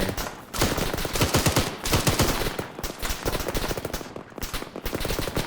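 Sustained gunfire in the video game Arma 3, set in an alternate-history Second Falklands War battle, with dense overlapping bursts of rifle and machine-gun shots rattling continuously and loudly throughout.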